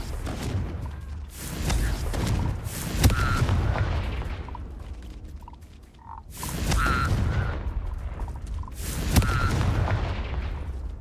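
Levioso and Confringo spells cast in the video game Hogwarts Legacy, giving repeated whooshing magical bursts with booming impacts, several loud strikes spaced a few seconds apart over a steady low rumble.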